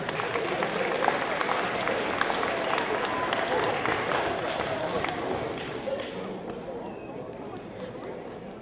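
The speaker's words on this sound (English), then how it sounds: "let's give those girls a big round of applause" An audience at a school awards assembly claps for a pair of students, with a sustained wash of applause mixed with crowd chatter that thins slightly toward the end.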